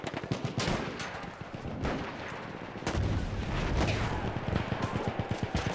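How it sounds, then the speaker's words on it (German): Gunfire in the Battlefield 1 video game comes as dense, rolling bursts of loud weapon shots and booms that overlap throughout without a break. "Oh, ist die Waffe laut"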